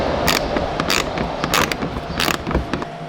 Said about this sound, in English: unscrew this little bolt that's under here that's holding the little protective piece here